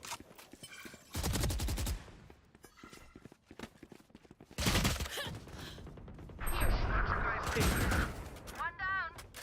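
A turret fires in a shooter video game: loud rapid bursts of automatic gunfire come in three separate volleys, with quieter gaps and faint game noises between them.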